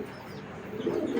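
A pair of Mili racer pigeons coo softly and repeatedly at close range, their low throaty calls growing a little louder toward the end, with no talk.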